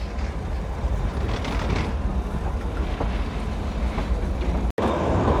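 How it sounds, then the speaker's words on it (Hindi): Shimla–Kalka toy train pulling out of Salogra station on the Northern Railway mountain line, a steady close rumble of wheels and carriages with faint rail clatter, continuous and loud throughout with no talking. "सलोगरा से हमारा डिपार्चर हो रहा है, आइए डिपार्चर देखते हैं।"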